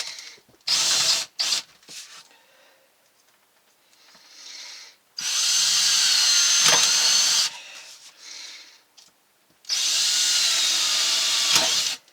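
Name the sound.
power drill drilling holes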